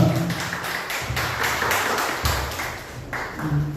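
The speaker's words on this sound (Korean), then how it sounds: "다 같이 박수로 환영해 주시기 바랍니다" Applause from a small Korean-language class audience at a King Sejong Institute cultural event in Siem Reap, Cambodia, steady broadband clapping lasting several seconds with bursts of louder hands and a low voice murmuring beneath.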